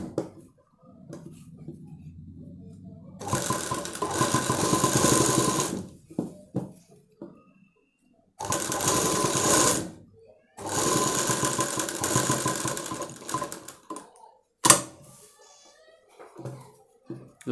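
A sewing machine stitches piping around a star-shaped blouse neckline in loud bursts of rapid whirring separated by pauses, with someone speaking softly between runs.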